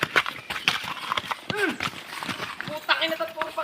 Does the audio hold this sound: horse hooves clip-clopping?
yes